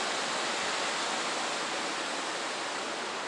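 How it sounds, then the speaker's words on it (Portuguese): A river near a country guesthouse in Cachoeiras de Macacu rushes continuously, a soft, steady broadband hiss of flowing water with no other sounds or voices. "com esse barulho do rio"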